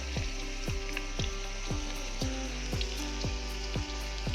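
Chicken curry with gravy cooking in a pan on the stove gives a steady, moderate sizzle with soft bubbling pops at a fairly regular pace.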